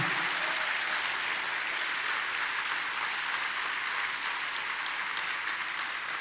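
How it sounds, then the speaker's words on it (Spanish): Church congregation applauding loudly during a sermon, a dense, steady roar of many hands that holds at full strength throughout. "Den un aplauso fuerte al Señor."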